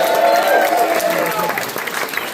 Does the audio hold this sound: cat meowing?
no